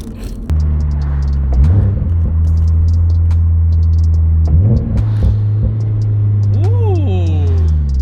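A deep, steady exhaust rumble from inside a 2023 Subaru BRZ with a new catback exhaust, low and continuous with a couple of swells as it revs, and a voice talking briefly over it.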